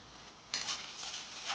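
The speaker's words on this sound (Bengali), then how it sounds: "একটু ভালো করে নেড়ে নিচ্ছি" Spoon stirring tomato with turmeric and cumin powder in a cooking pan, a soft steady scraping that turns louder and busier halfway through, close up with no voices.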